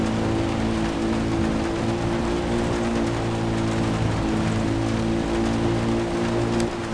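Dense rain hisses steadily in the Far Cry 3 video game, loud and continuous, over a low droning vehicle engine hum.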